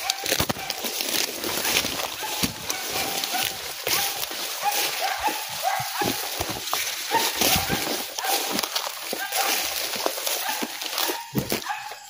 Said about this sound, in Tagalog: May mga dala silang mga aso, yung mga matatapang na aso.